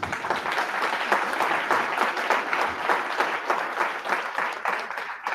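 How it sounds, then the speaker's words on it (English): An audience breaks into loud, sustained applause at a Carnatic music concert, dense hand clapping that stays strong and even from start to finish with no speech on top. "I think Anandi Aunty deserves a huge round of applause."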